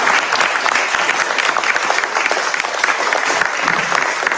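Clapping from a watched video, dense sustained applause with steady patter throughout, slightly mixed with faint crowd noise.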